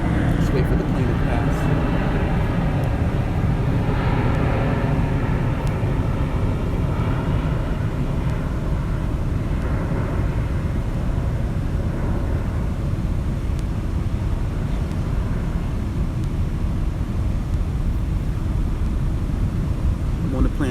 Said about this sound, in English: Plane flying over. Just wait for the plane to pass.